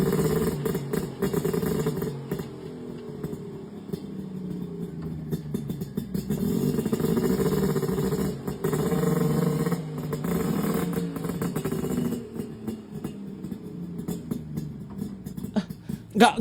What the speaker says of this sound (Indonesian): dari dengungannya kayak memang cc 2 tak yang cc-nya tinggi loh